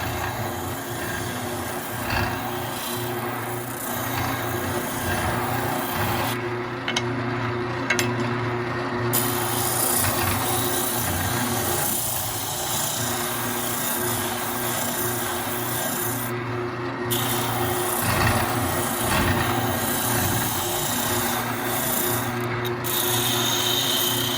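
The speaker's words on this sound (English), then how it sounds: "oscillating spindle sander. We'll smooth out the cuts left by the bandsaw" An oscillating spindle sander smooths bandsaw cuts on a wooden pull-string top piece, its motor humming steadily beneath a loud, continuous rasping of abrasive against wood that shifts as the workpiece is moved.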